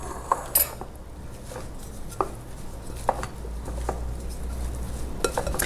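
A spoon stirs a tablespoon and a half of oil into tabouli salad in a bowl, giving scattered close scrapes and light clinks against the dish over a quiet background.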